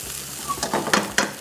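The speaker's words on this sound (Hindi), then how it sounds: "इसको थोड़ा सा भुनेंगे" Ginger, garlic and onion frying in hot oil for bhuna gosht, a steady close sizzle with stirring scrapes and a few sharper spatters toward the end, no voices.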